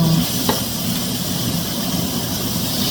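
Hamburger patties seasoned with salt and pepper sizzle in a hot pan, a steady close frying hiss with faint stirring clatter near the start and no talking.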